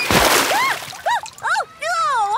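A sharp splash of water at a cartoon water park opens the moment, a brief burst of spray that fades, followed by several short gleeful squeals from animated voices.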